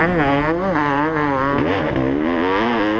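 Honda CR500 two-stroke dirt bike racing in a British two-stroke championship motocross event, its engine revving hard and wavering in pitch as the rider works the throttle, loud and close, a continuous raspy two-stroke drone.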